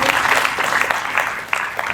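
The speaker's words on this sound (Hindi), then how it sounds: "जोरदार तालियां मेहराबानों के लिए।" An audience at a stage drama performance gives hearty applause, dense, close clapping that holds steady for two seconds with a few sharper individual claps.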